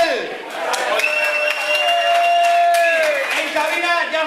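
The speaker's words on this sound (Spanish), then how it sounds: "quiero un fuerte aplauso para él" A nightclub crowd applauds and cheers for the DJ at the end of a set, with dense clapping over lingering tonal music and a loud voice on the club microphone.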